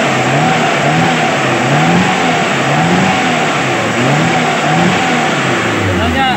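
Carbureted Daihatsu Zebra engine running loud and close after carburetor tuning, with repeated rhythmic revving swells over a steady idle, while someone talks over it.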